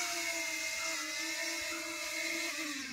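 A drone flies back overhead with a steady, high whirring buzz that holds constant and fairly loud throughout, slightly shifting in pitch as it moves.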